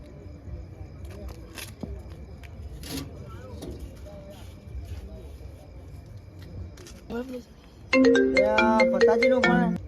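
A mobile phone ringtone plays loud and close near the end of the clip, a repeating melodic tune during an outgoing call, after a stretch of faint background voices and outdoor rustling.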